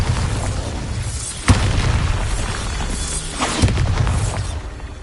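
Bombarda spell explosions in the Hogwarts Legacy video game, two sharp blasts about two seconds apart, loud and close over a dense, rumbling game soundscape.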